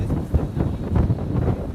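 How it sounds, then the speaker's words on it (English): Strong wind buffets the microphone outdoors on a city street, a steady low rumble with gusty swells and brief louder bursts throughout. "It's super windy today"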